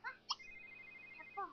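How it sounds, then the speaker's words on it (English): A mobile phone rings in The Sims 3 video game, a faint, thin electronic ringtone tone held briefly between short chirpy blips. "Her phone is ringing."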